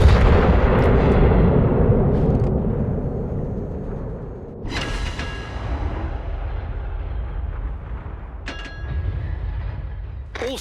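Heavy main guns of a Conqueror battleship in World of Warships fire in loud booming blasts with rumbling tails, a big salvo at the start and sharper reports near the middle and end, with no speech.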